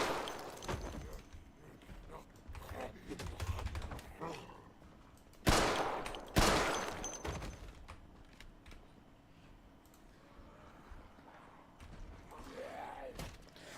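Gunfire in the Project Zomboid video game: two loud, sharp shots about a second apart stand out from a busy, low game background.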